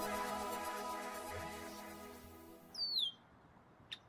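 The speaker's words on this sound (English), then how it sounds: "I get too close to the nest of this male red-winged blackbird, and he's not having it" Male red-winged blackbird calling near its nest at the edge of a wetland pool, a short burst of sharp, slurred call notes near the end following a steady hum of background sound.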